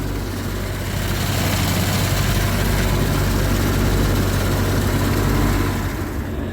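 A tractor-driven mower cuts the first hay of the season, its heavy engine droning loud and close in a constant low rumble with no break.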